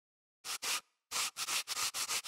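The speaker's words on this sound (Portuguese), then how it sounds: "Após o corte, alise com uma folha de lixa." A cut pipe being smoothed with a sheet of sandpaper while installing a wall-hung toilet: close, loud rasping strokes, two quick rubs, a pause, then a run of six or so rhythmic back-and-forth passes.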